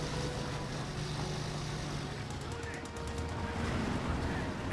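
Gunfire in the strategy video game Company of Heroes 2 crackles in dense bursts within a continuous wash of battle noise and engine rumble.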